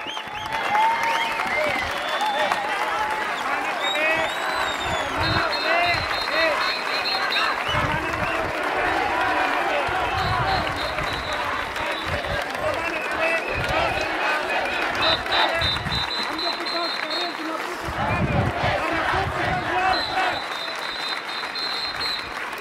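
Crowd at an outdoor rally in a square applauding firefighters, thick continuous clapping with cheering mixed in, loud and sustained, with a voice over a loudspeaker coming through at times.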